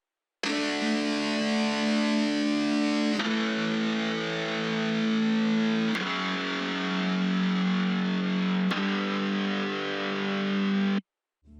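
A dry, pitched electric guitar sample plays a chord progression as four sustained chords of about three seconds each, loud and steady, with no effects or talking.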